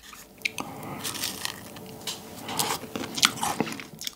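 A large department-store meringue cookie is bitten and chewed close up, giving crisp crunches and crackling squishes in irregular bursts with no talking.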